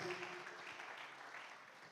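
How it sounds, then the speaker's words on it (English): An audience claps for a public relations officer at a World Youth Skills Day 2023 event, a short burst of moderately faint, even applause fading slightly. "Please, a round of applause."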